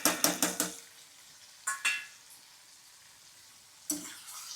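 Okra frying with masala in a pan, a quiet sizzle broken by a quick run of four clattering stir strokes, then two more knocks and one later clank.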